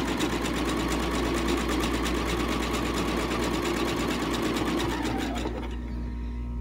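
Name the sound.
sewing machine stitching over frayed edge of fabric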